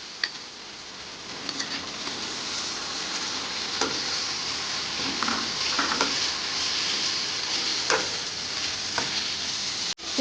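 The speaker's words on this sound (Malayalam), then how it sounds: "ഇനി നമുക്കിതിലേക്ക് തക്കാളിയും പച്ചമുളകും കൂടെ ഇട്ട് കൊടുക്കാം" Tomatoes and green chillies fry in a pan for chicken curry, giving a continuous hot sizzle broken by scattered clicks and scrapes of stirring.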